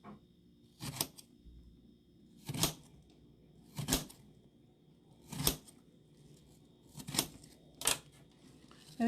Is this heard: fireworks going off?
no